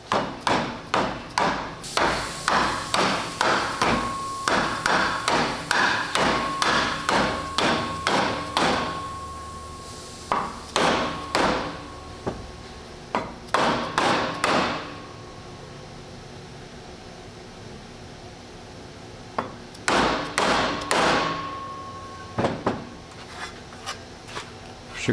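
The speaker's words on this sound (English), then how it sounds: "switch over to what we call dead blow, or should be called a dead blow, basically a rubber mallet" A rubber dead blow mallet hammers a base collar into place, delivering bursts of quick, dull thuds in steady runs, pausing between sets, with faint rubbing and scraping between the strikes.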